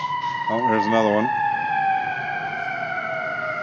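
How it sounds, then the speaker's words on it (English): Ambulance sirens pass by outdoors, a steady wailing tone that holds under a short burst of rising and falling warble. "those are ambulances"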